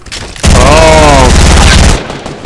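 Gunfire in the Fortnite video game: a loud, dense sustained burst of rapid shots lasting about a second and a half, preceded and followed by quieter game ambience.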